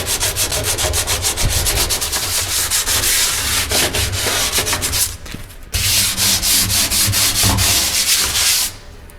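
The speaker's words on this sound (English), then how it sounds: "we have to sand the wall that we're going to bond to. So we have the sandpaper in the kit." Sandpaper worked by hand over a fiberglass sump wall, prepared for bonding a Bravo RLX fitting, makes loud, close, rapid back-and-forth rasping strokes in a steady rhythm, pausing briefly midway before resuming, with no talk.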